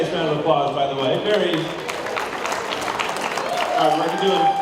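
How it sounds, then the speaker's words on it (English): Audience applause and cheering for Tracy at a children's charity event in Connecticut, a steady wash of clapping from a crowd with voices mixed in throughout. "Let's give Tracy a nice round of applause"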